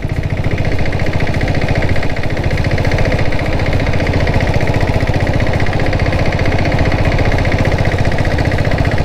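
A diesel-converted Bullet motorcycle with a 7.5 HP engine and turbo runs at a steady idle, a loud, close, continuous rapid thumping chug that stays even throughout with no voices.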